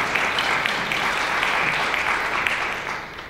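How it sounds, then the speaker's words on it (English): A crowd claps steadily and fairly loudly for a few seconds, a dense even wash of applause with no talking over it. "let's give them a round of applause for all the time they're putting in"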